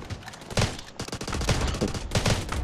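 Gunfire in the video game Delta Force around a headshot, dense rapid automatic bursts close and loud, with brief gaps between volleys.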